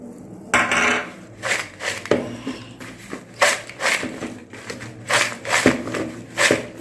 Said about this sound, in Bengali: এগুলো আমি এই চিপসের মধ্যে দিয়ে মিশিয়ে দিচ্ছি